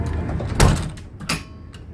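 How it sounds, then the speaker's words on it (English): The sliding door of a 2005 Ford E350 wheelchair van rolls and shuts with a solid thud, followed by a second lighter latch knock, close by and with no talking. "shut the door."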